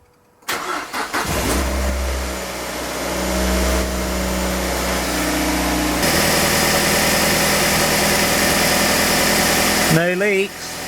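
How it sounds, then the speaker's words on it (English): A Mazda MX-5 engine cranks and catches, then settles into a steady close idle with a slight rise in revs partway through; a voice briefly speaks near the end. "we're going to start the engine up, see if it leaks first"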